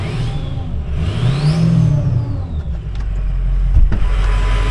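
A 2006 Ford F250 with a 6.0 Powerstroke diesel, on a test with damaged steering arms, idles with a rough, throbbing clatter and briefly revs up and settles back, heard close with faint background noise.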